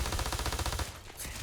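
Rapid automatic gunfire from the space video game Starfield rattles loudly in a fast burst for under a second, then cuts off into quieter game ambience.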